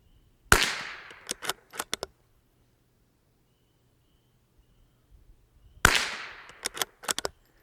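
Two loud, close rifle shots from a Bergara BMR X, each a sharp crack with a decaying tail, then several quick bolt and handling clicks, separated by about five seconds of near silence.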